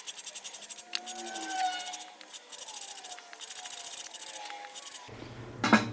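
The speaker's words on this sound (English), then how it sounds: "I'm going to use a safe edge file, try to file the height of that down" A safe edge file rasps down a key blank held in a vise for a chest lock key, making repeated rhythmic scratching strokes, close and fairly crisp, with a few brief pauses between strokes.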